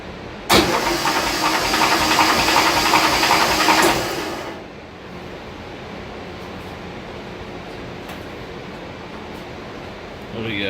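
An air-cooled VW Beetle engine cranking over during a compression test, a loud continuous whirring starter drone with a steady pulsing rhythm for about four seconds, then it cuts off to quiet background hiss.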